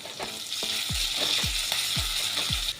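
Black cumin, crushed garlic and green chili fry in hot oil with a steady, close sizzle. Four low scraping thuds from stirring recur at regular intervals.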